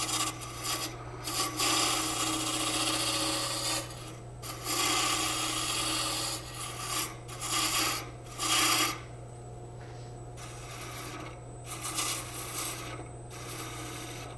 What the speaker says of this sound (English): Get a spindle roughing gouge and I can go a little bit faster on this.